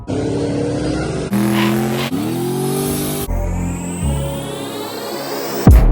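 A twin-turbo Coyote V8 car street racing revs and accelerates hard, its loud engine note climbing through several sharp gearshifts before a final abrupt burst.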